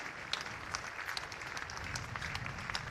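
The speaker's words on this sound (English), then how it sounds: "The applause goes round the ground here." Steady applause from the crowd at a Somerset versus Nottinghamshire cricket match, soft and distant, a continuous patter of clapping without voices on top.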